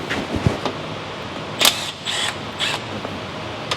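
A ratchet with a 10 mm socket works bolts loose on a 2010 Chevrolet Silverado 1500, giving a few close, crisp clicking bursts among light mechanical handling noise.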